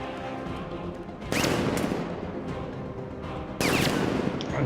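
Gunfire in the Batman Arkham Knight video game, a dense continuous rattle of automatic fire with two louder bursts swelling in, under game ambience with no clear talk.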